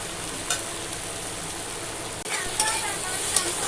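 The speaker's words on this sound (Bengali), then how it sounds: "এবার পেঁয়াজগুলোকে ভালো করে ভেজে নেবো" Onions frying in a pan with ginger, tomato, cumin and coriander powder, giving a steady broadband sizzle with a few faint stirring clinks, close and alone.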